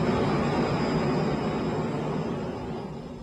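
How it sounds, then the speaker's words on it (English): Jet engine of an airplane gives off a loud, steady broadband roar with a faint high whine, fading slightly toward the end, and no voices. "That's how a jet works."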